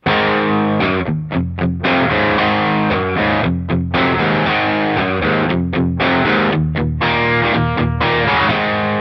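An electric guitar on its bridge pickup plays through an amp with the tone pot rolled back, giving a continuous distorted run of chords and notes with short choppy breaks, loud throughout with no talking.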